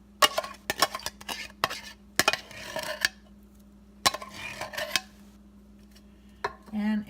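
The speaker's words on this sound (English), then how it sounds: "I'm putting a can of cherry pie filling into an 8 by 8 inch pan." Canned cherry pie filling going into an 8 by 8 inch baking pan, with a run of close metallic clinks and scrapes from the can and utensil, pausing briefly before a few more knocks.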